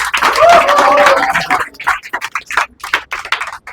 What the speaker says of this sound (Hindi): थोड़ा शोर तालियां मचाओ, शोर भी मचाओ